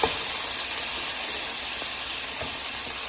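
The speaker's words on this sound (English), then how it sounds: "I've got a pan heating up some oil, and we're going to throw in some garlic." Garlic sizzling in hot oil in a pan, a steady broadband hiss that holds evenly throughout with a few faint ticks and pops.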